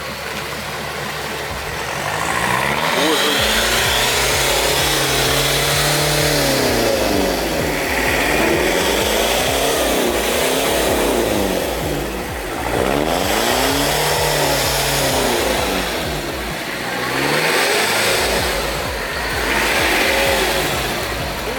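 Off-road vehicle engine revving through a muddy puddle, loud close engine rising and falling in repeated rev swells over about twenty seconds, with sloshing and strain between surges.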